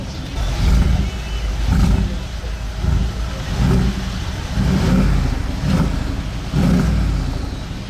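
A Mercedes G-Class engine revs repeatedly in strong throaty bursts, about six rises and falls over a steady idling rumble, loud and close, in Monaco.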